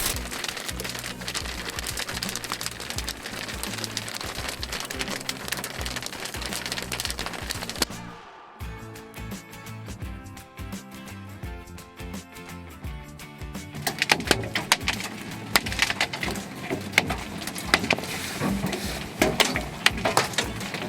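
Dense, rapid clattering of hailstones striking surfaces during a storm in the Kootenays, British Columbia, steady and crackling, pausing briefly before resuming even heavier.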